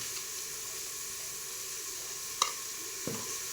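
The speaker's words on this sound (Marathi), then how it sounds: "मसाले परतून झाले की त्यात मीठ टाकायचे।" Spices sautéing in a pan as salt goes in: a faint, steady sizzle throughout, with a brief sharp clink near the middle and a soft scrape just after.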